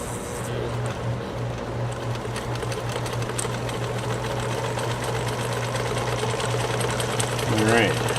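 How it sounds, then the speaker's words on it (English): A vintage Necchi Supernova sewing machine runs a wide, short zigzag stitch with no cam fitted, giving a steady motor hum under rapid rhythmic needle clatter, with a person talking briefly near the end. "There we go, it's making a zigzag."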